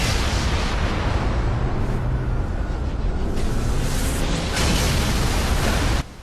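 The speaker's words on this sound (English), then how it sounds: "I just blew up the giant ship right there." A giant ship explodes in Halo Reach, a thick, sustained roar of blast and rumble that fills the whole stretch before cutting off abruptly near the end.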